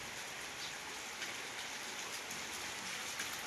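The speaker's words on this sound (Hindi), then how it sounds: "तो कल रात से काफ़ी बारिश हुई" Heavy rain falling steadily on surfaces, a dense continuous hiss of drops with no pauses or voices, fairly close and even in loudness.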